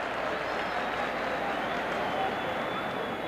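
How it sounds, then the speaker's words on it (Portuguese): Stadium crowd applauding at a 1978 Brazil versus Czechoslovakia football friendly, a steady dense wash of distant clapping and crowd noise filling the whole stretch without a break. "Os aplausos, Rivelino."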